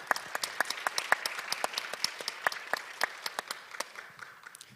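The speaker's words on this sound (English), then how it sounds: "Please give Mr. Meyer a big round of applause" Conference audience applauding a speaker, a steady patter of many hands clapping at moderate distance, sustained for several seconds without voices.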